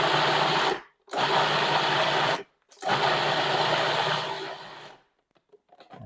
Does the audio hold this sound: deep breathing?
no